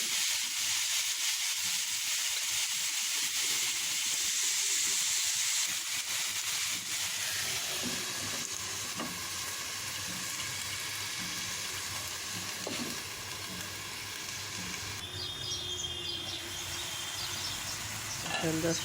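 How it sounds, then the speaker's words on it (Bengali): Tomatoes added to a hot pan and frying, a loud steady sizzle and hiss close up, with soft scraping as they are stirred throughout. "পাতা হয়ে গেছে এখন দিয়ে দিব টমেটোগুলি"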